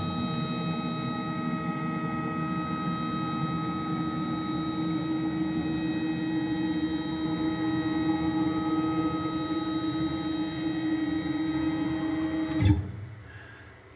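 A machine table on a mill is run back and forth while its base plate is checked for trueness, giving a steady tonal motor hum with a whining drive note and a clunk near the end as it stops.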